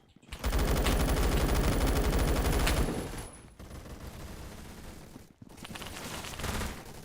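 Gunfire on burst mode in the pirate video game Sea of Thieves: a loud, dense volley of rapid shots for about two seconds, then quieter scattered game sounds with brief pauses.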